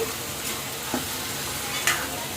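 Onions frying in a pan with ginger paste added, a steady close sizzle with a few soft stirring scrapes and taps.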